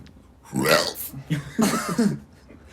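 A person burps loudly and close, a drawn-out guttural belch followed by a second, broken belch about a second later, with quiet room tone between them.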